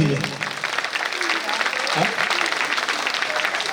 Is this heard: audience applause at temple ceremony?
yes